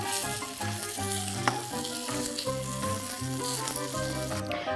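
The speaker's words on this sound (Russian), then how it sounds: "Поэтому я беру ложку, выкладываю смесь на сковородку" Loud, steady sizzling of egg-free potato pancake batter frying in a hot pan, with music playing underneath throughout.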